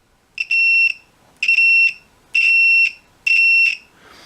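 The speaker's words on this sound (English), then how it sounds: "When this touches and makes continuity, you'll hear a beep." A multimeter testing continuity on a DIY 12-volt contact switch gives four sharp, high electronic beeps, each about half a second long and evenly spaced, loud and close with quiet between them.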